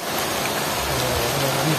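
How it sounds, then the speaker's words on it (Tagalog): Rain falls steadily at a private resort in Sablayan, a dense, even hiss of drops that stays close and fairly loud throughout, with a faint low murmur underneath. "inabot na tayo ng ulan"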